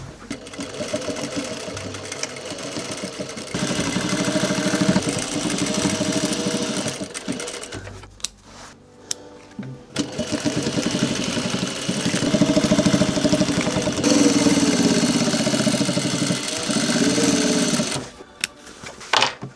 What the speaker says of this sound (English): We're just going to sew to the shoulder and then sew down the side seam.